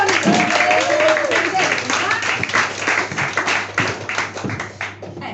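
An audience at a newspaper theatre performance in Greece claps for a performer, with dense, fairly loud applause that thins toward the end and a voice speaking over it.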